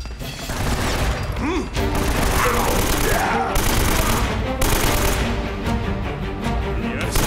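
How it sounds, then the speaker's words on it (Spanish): Rapid bursts of gunfire crackle almost continuously, loud and close, in the video game Uncharted: Drake's Fortune Remastered on PS4, with booms and music mixed in. "Más tiros, más tiros."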